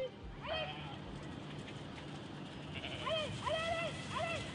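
Sheep bleating on a farm, a couple of wavering calls early on and then a cluster of several overlapping bleats, moderately near over a steady low background.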